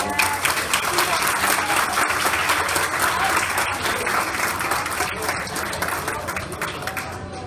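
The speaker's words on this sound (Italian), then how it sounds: "Noi facciamo un applauso anche a loro" Sustained crowd applause at a youth cycling school event, steady and loud, with dense clapping throughout and some voices mixed in.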